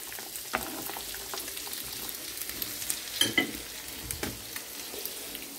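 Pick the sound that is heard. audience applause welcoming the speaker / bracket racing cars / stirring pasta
stirring pasta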